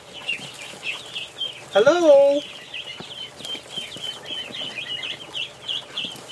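Ducks call in a quick series of quacks at a farm, with a louder, rising call standing out in the middle and someone speaking softly to them over ongoing chatter.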